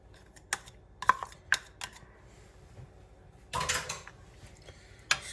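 A utensil stirs cheese into stone-ground grits in a pot, making sparse, close scraping clicks against the pot with a longer scraping pass partway through, in a quiet setting.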